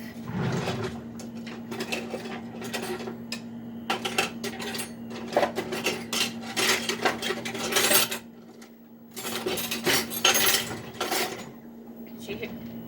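A metal knife clangs against a plate again and again in fast, loud bursts with short pauses between them, close by, while a steady hum runs underneath.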